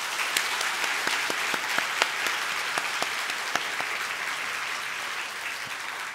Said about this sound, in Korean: 우리 다시 한번 박수해 주시기 바랍니다.